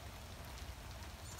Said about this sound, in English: I think I have enough of this rain, otherwise it's gonna just destroy the cardboard.